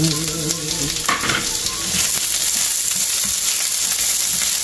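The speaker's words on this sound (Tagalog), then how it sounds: "Oh, nasusunod na yung sibuyas mo." Onions frying in a pan, a loud, close, continuous sizzle with stirring scrapes, and brief talk and a tonal sound at the start.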